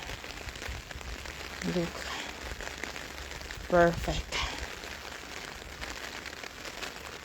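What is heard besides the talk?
rain falling in Switzerland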